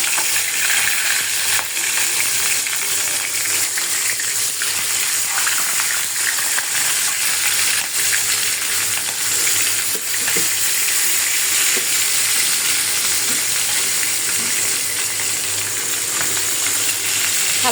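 Hilsa fish pieces frying in hot oil in a wok, a loud, steady, dense sizzle that holds evenly throughout with no voices over it.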